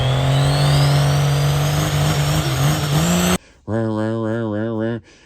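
A truck engine held against its launch limiter makes a loud, steady drone with a rising pitch, cuts out briefly, then returns as a hard, wavering hum for a little over a second before stopping.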